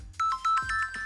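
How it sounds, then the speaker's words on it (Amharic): A phone ringtone chirps in a quick series of about seven short, evenly spaced electronic tones, clear and close. "ስልኩ ሲጮህ ዶክተሩ በድንጋጤ ነቁ።"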